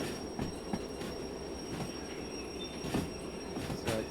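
A train in the Derail Valley simulator slows under braking, a steady rumbling roll with high, thin wheel squeal and scattered clanks and knocks from the cars, continuous and close, with no talking.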